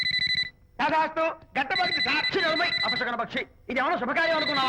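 A telephone rings in a Telugu film scene, a short electronic ring heard alone at the start, then its tone continues faintly beneath people talking loudly.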